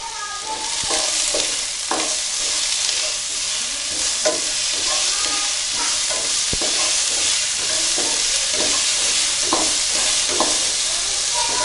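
Chopped onions and shallots sauté in an oiled pan for a Kerala chicken roast, giving a steady, close sizzle broken by repeated scraping and stirring clicks from a spoon, with no talking.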